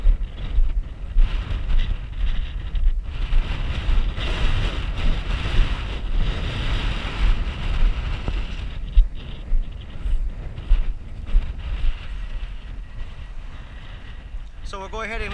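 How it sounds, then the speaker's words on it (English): Strong gusty wind at an off-grid wind turbine site buffets the microphone in a steady roar with rushing surges, continuing throughout while someone talks over it. "she's a windy one"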